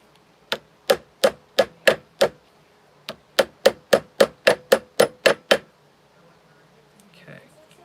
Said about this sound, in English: I'm going to grab my metal ball peen here.